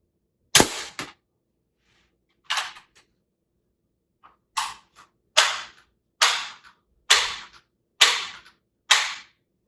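Seven sharp air rifle shots from a Ruger NGX, one isolated crack followed after a pause by a regular series of six, each a crisp snap with a short decaying tail, close and alone with no talk.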